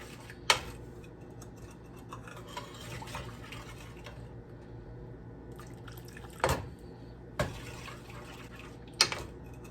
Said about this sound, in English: So you pour, stir, pour, stir, pour, stir, pour, stir.